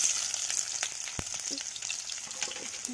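Onions frying in oil in a pan for an egg curry, a steady close sizzle and crackle with a sharp utensil clack partway through and light stirring, no talking.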